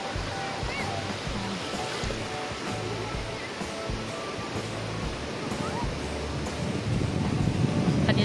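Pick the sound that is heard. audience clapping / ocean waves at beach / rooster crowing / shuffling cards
ocean waves at beach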